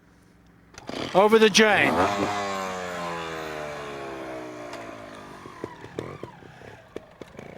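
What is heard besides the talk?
trials motorcycle engine starting and running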